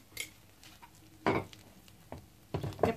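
A spoon scrapes and stirs as sugar goes into cooked mung bean filling for a pandan tapioca cake with coconut milk, made in a home kitchen. Several short, close scraping bursts sound between quiet pauses.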